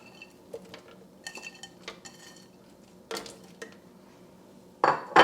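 Green beans and bacon tipped into a pan, with a few clinks and knocks of cookware and utensils. A sharper rattle comes near the end, all close and moderately loud, with no talking.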